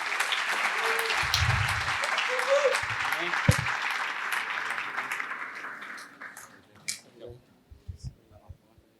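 A church congregation at an athletes' worship service claps for two invited guests; the applause starts thick and lively, then thins out into scattered claps and fades, with brief voices at the end.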